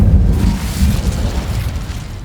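In the video game Hogwarts Legacy, an Incendio fire spell erupts in a loud, deep roaring blast of flame that rumbles steadily and slowly fades.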